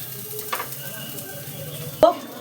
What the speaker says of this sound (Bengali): যেই পাশটায় আমি এই গাজর, ধনেপাতা, রসুনটা দিয়েছি, সেই পিঠটাই আমি আগে কড়াইয়ে দিয়েছি, যাতে সেটা লেগে যায়